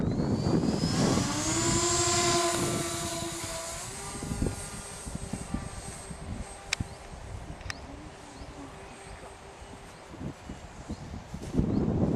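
A twin-engine Twin Star radio-controlled model airplane flies at half throttle with a steady, droning motor whine that holds a sustained pitch, close at first and then easing slightly more distant, with no talking.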